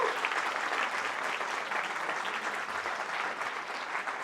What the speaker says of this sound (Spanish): Démosle un aplauso al Señor que está aquí con nosotros.